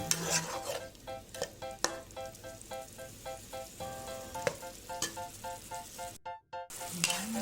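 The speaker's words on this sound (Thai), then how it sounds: "คนเลยแล้วก็คนให้เข้ากันนะคะ" Stink beans and shrimp stir-fried with southern Thai curry paste in a pan, a close, bright sizzle under quick repeated scraping and tapping of a spatula stirring, with a brief silent gap near the end.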